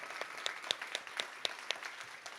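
Steady applause from a crowd at an innovation festival talk, dense clapping with a few sharper claps standing out, continuing evenly throughout at moderate distance.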